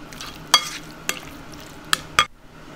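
A few separate scraping strokes of a utensil stirring a moist mushroom larb mixture in a bowl, short and close, with quiet pauses between.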